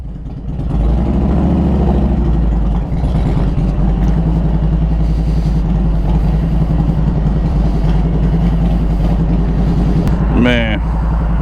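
A Harley-Davidson Road King motorcycle pulls away, its loud, steady low engine rumble dominating the whole stretch, with a short voice heard near the end.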